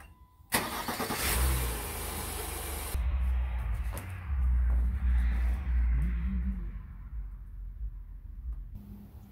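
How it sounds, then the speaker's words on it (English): A second-generation Honda Ridgeline starts after an oil change. The engine catches with a loud burst, then settles into a steady, close idle that gradually quiets. "now I'm gonna run the engine"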